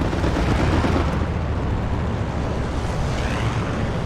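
Strafing run explosions in Hell Let Loose rumble as one dense, continuous, loud roar of blasts and booming impacts, heavy in the low end with no clear gaps and no talking.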